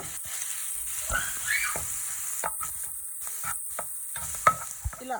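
Spinach frying in a pan with turmeric, a soft continuous sizzle broken by several close stirring scrapes and clinks of the utensil, no talking.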